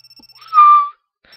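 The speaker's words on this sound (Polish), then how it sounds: "Zaraz następnego ranka obudził mnie nagły dźwięk komórki." A mobile phone ringtone from the visual novel G-Senjou no Maou plays as a brief electronic chime, one bright sustained tone of about half a second, with no voices.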